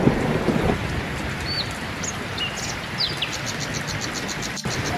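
Cartoon storm ambience for a forest tale: steady rushing wind and rain-like noise fill the scene, with a few faint high bird chirps over the top.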